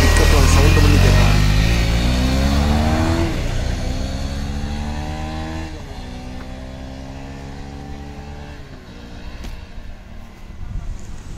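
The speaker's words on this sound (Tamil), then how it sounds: "இந்த ஸ்டார்டிங் பிக்கப் அந்த சவுண்டு பண்ணி கேட்கலாம்." A KTM Duke 250 Adventure motorcycle, 250 cc, pulls away from a start, its engine loud and close at first, rising in pitch through the gears, then easing and receding into quieter, steadier running.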